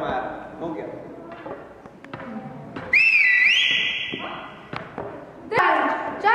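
A shepherd-style whistle in a Hungarian village nativity play from Zsámbék, sharp rising and sliding whistles cutting in over spoken and sung lines, with thumps from performers and a second whistle burst near the end.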